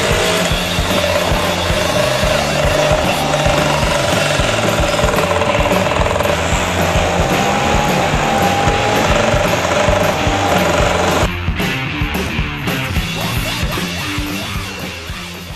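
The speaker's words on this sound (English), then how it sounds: "Couldn't hear you over the roar of my new engine." A moped engine roars loudly and steadily at close range, a rough, buzzing drone with a rising whine that holds for most of the stretch before easing off at the end.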